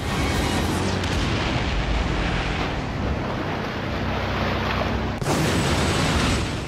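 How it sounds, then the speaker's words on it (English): Heavy, rumbling explosions roll continuously, with a fresh loud blast bursting in near the end, dense and booming without any voices, in the PS3 game 007 Blood Stone. "Illegal explosives."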